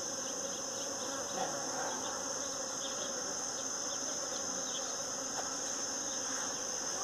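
Native bees buzz and fly close to the microphone on a farm, a continuous whirring hum with drifting passes near and away, steady throughout.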